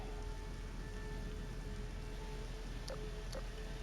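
Steady rain falls in the dark outdoor scene of the video game Voices of the Void, an even hiss with no gaps, joined near the end by two faint brief tones.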